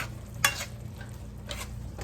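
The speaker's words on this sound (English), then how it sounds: "now we're gonna go ahead and stir all this up" Pasta sauce ingredients with chipotle pepper sauce get stirred in a pan, with a soft sizzle underneath, a sharp scrape near the start and another brief stirring burst toward the end.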